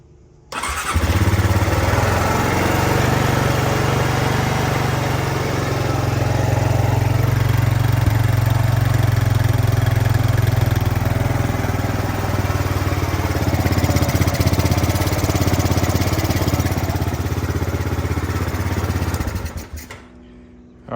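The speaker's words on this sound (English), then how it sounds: "go ahead and fire this thing up before we put our air box in to make sure that it doesn't leak or anything" A 2005 Honda Rancher ATV with its air box removed, running on reserve fuel, fires up and runs loud and steady for about nineteen seconds at close range, then cuts off abruptly, with no talking.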